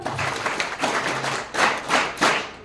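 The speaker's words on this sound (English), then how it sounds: "Can everyone clap for her?" Students clap together in a classroom, a short burst of fairly loud, uneven hand claps that swells and fades in waves over a few seconds, with no talking.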